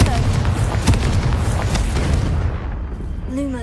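Fire spell explosion cast in Hogwarts Legacy during a haunted Hogsmeade quest: a deep, rumbling boom with crackling bursts over dense game noise, fading into a tonal magical swell.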